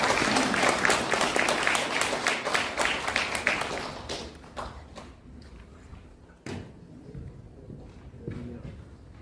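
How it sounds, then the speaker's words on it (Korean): Applause from the audience at an academic seminar hall, a burst of clapping that fades after about four seconds into a few scattered claps and thuds. "다시 한번 큰 박수를 맞이하시기 바라겠습니다"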